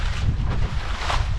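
Wind roars across a sailboat on a lake in a north-westerly breeze, a steady broadband buffeting with gusty swells and rumbling microphone wind, no voices.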